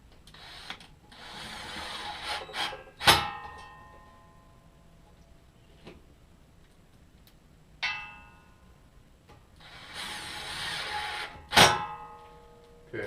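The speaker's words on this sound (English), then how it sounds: "I need to screw the plate and block to the stand" A power tool drives screws through a plate and wooden block into a stand, two separate whirring bursts several seconds apart, each ending in a sharp clack, with quieter handling knocks between them.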